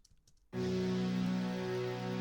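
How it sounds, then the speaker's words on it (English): Faint tapping, then a rich bed of Spitfire Audio synthesized strings swells in and holds a sustained, full chord. "synthesized strings,"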